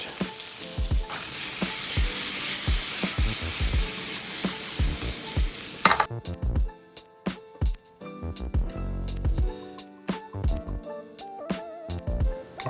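Blanched food seasoned with salt and black pepper sautés in a pan: a loud, dense sizzle at first, then a quieter frying hiss broken by sharp utensil scrapes and knocks as it is stirred.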